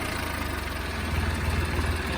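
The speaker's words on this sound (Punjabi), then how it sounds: "ਬਿਲਕੁਲ ਸੋਨੋ ਕੇ ਚੱਲਦਾ ਵਾ ਟਰੈਕਟਰ" A 2010 Swaraj 855 tractor engine runs steadily, a low throbbing rumble at an even pace, close by and unbroken.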